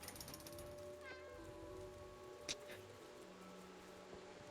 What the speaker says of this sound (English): And that cat usually blocks me.